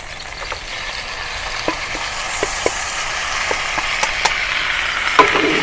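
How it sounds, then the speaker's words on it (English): Beef being stir-fried with aromatic spices in a pan for Sichuan beef noodle soup, a steady close sizzle with scattered clicks and scrapes of the spatula stirring through the meat. "And continue stir fry."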